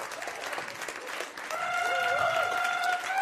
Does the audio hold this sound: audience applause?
yes